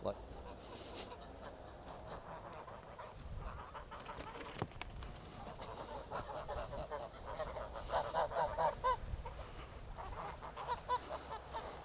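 Geese on a Croatian homestead honk repeatedly in a group, moderately close, growing busier toward the end, over faint outdoor background noise.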